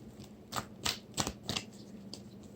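Tarot cards being shuffled by hand, a quick run of crisp papery riffles and slaps arriving in several short bursts, close and fairly quiet with no talking.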